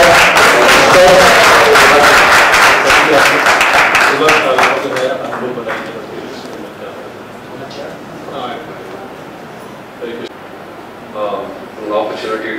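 Audience clapping at the 2012 Bhakti-vriksha convention, loud and dense for the first few seconds, then thinning into scattered claps as people talk.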